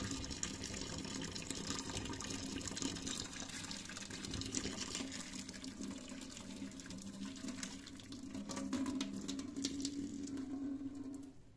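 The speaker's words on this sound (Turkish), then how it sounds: "daha sonra şöyle kaynar suyu üzerine döküyorum" Boiling water pours steadily into a clogged sink drain that holds a drain-cleaning tablet, a continuous close gushing and splashing rush that lasts throughout.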